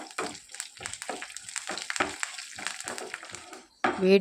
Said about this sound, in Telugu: ఈ పోపును బాగా వేయించుకోవాలి